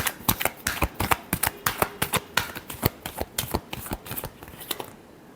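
Tarot cards shuffled by hand in a rapid series of crisp riffling snaps and flicks, close and clear with no talking, trailing off at the end.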